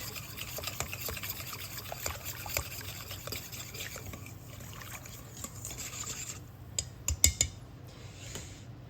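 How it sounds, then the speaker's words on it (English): Whisk scraping and rasping against a mixing bowl while baking soda dissolves into warm water, a steady close rubbing texture with faint liquid swishes and a few sharper clinks near the end. "I'm going to whisk that baking soda and warm water until the baking soda"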